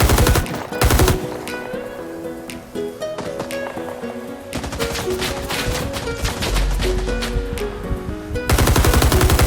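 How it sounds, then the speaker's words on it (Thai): Sustained M60 machine gun fire sweeping across targets in the Vietnam War shooter Rising Storm 2: Vietnam, loud rapid bursts running almost continuously, with the densest hammering at the start and end. "คือแบบยิงกวาดเรียบเลย"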